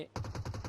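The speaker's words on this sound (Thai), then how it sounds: "ถ้านาวีไปยิงแบบนี้เนี่ย ผมว่าซีเคจิน น่าจะได้ยินเสียงปืนแล้ว" Rapid automatic gunfire in the mobile battle royale game PUBG Mobile, about five quick evenly spaced shots in a short burst, moderately loud and alone.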